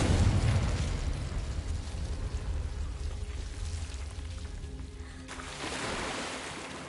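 Confringo spell blast in the video game Hogwarts Legacy, a loud booming explosion that fades into a rumbling roar, then a fresh swell of noise near the end.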